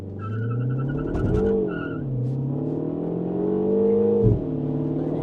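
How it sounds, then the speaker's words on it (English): A 2025 MINI Cooper JCW hot hatch revs and launches hard under launch control, its engine rising steadily in pitch, then a short sharp tire squeal as it pulls away, loud and close with no talking. "Launch control active, let off the brake."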